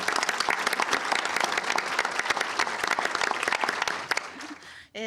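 An audience at a panel discussion breaks into sustained, dense applause that fades out near the end.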